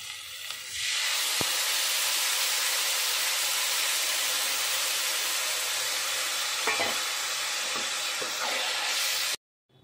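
Tamarind sour liquid poured into a hot pan of fried bitter gourd with mustard and chili paste bursts into a loud, continuous hiss and sizzle that holds steady, then cuts off abruptly near the end.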